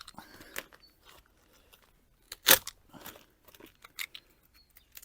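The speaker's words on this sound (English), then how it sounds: "cut the polythene" A knife slicing through polythene sheeting on a polytunnel with a blunt blade, heard as a few sparse crunchy rips and crinkles, with one loud sharp tear in the middle against quiet surroundings.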